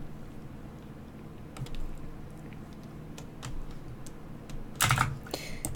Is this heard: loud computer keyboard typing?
yes